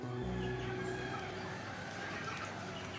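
Several chickens cluck and murmur softly at close range in a steady barnyard chatter, with low background noise throughout.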